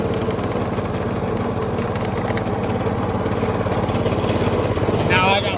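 A Snapper riding lawnmower with a Briggs & Stratton engine runs steadily at close range, a loud, even chugging drone with a rapid pulsing beat throughout.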